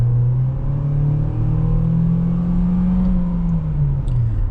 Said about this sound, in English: So when you accelerate hard, the RPMs go up really fast